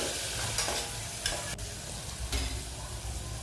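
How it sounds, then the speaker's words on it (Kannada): Tomatoes and other vegetables fry in hot oil for pasta, with a steady close sizzle and a few scraping stirs of a spoon against the pan. "ಟೊಮೊಟೊ ಕೂಡ ಸಾಫ್ಟ್ ಆಗೋವರೆಗೂ ಎಲ್ಲ ಫ್ರೈ ಮಾಡಿಕೊಡಿ"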